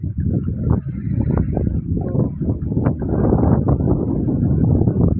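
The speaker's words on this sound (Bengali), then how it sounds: "এটা কিন্তু বাতাস বইছে অনেক" Strong wind gusts across a riverbank, buffeting the microphone in loud, low rumbling surges that rise and fall for the whole stretch.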